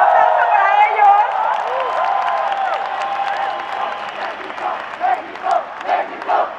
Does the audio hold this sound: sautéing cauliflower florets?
no